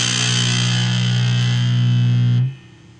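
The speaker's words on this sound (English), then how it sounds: "Now, this is distortion, the distortion knob, all the way maxed out." A Danelectro French Toast distortion pedal with its distortion knob maxed out gives a loud, buzzing, saturated sustained guitar tone that holds steady for over two seconds, then cuts off abruptly into a fainter lingering hum.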